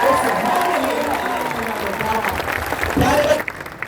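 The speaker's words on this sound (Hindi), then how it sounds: "मैं कह रहा हूं एक बार उस पिता के लिए भी तालियां बजा दो।" An indoor audience applauding for a father, steady clapping from many people mixed with voices, sustained throughout before briefly dropping off near the end.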